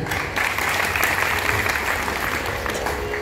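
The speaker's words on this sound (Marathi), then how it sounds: "या गोष्टीवर टाळ्या व्हायला पाहिजेत." An audience at a devotional bhajan concert breaks into steady, dense applause, many hands clapping continuously and fairly close for a few seconds.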